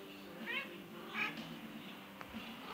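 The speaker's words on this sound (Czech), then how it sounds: "Koukejte, kočička." A cat meows twice, short and fairly faint, about a second apart, over a quiet background with a faint voice nearby.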